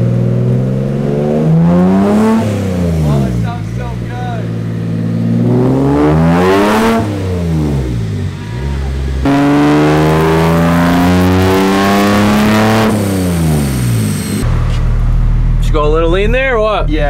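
A BMW E30 with a swapped M3 engine revs hard on a dyno, running through several rising pulls that climb in pitch, then drop back and climb again, loud and close, ending in a lower idle-like drone.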